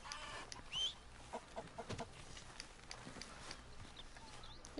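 A chicken clucking in the video game Red Dead Redemption II, with a few short, soft clucks and squawks scattered over a quiet outdoor ambience, faint and fairly close.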